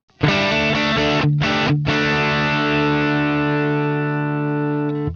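Distorted electric guitar through a Helix Stadium amp plugin with input gain raised 18 dB: a few short chugged chords, then one big sustained chord ringing out and fading, loud and close.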